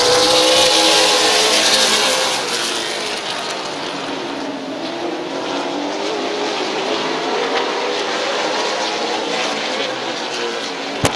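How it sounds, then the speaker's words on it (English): Race cars on the final lap at Midvale Speedway roar past together, loud and close at first, then a sustained engine drone as the pack fades slightly around the oval. "White flag, 1 lap to go for Ritter."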